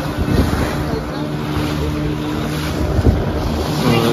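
A motorboat engine drones steadily through a boat ride from a fishing harbour in Pondicherry into a mangrove forest, a low continuous hum with wind buffeting the microphone.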